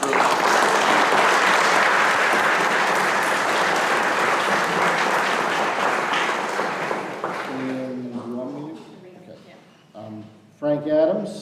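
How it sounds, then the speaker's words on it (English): Audience applauding a group of grade 4 and 5 students at a school board meeting, loud sustained clapping that fades out, followed by a speaker talking. "just a nice round of applause for all of them as a collective group"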